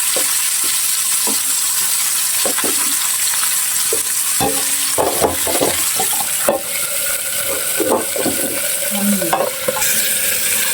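Fish frying in oil in a covered pan gives a loud, steady sizzling hiss. Scattered sharp pops and spatters run through it, close up, with no talk.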